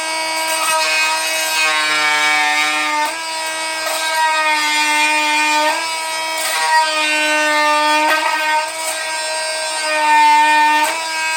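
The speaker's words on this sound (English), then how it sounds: "in case you guys are wondering what this is the Dremel Multi-Max. And it's great for cutting." Dremel Multi-Max oscillating tool cutting, a loud, sustained buzzing whine with strong harmonics that wavers slightly in pitch as the blade bites, close and continuous throughout.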